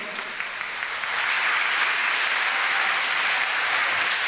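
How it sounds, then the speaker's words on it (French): A church congregation at a Mass applauds a student choir, with steady dense clapping that swells after a second and holds loud throughout. "On les applaudit."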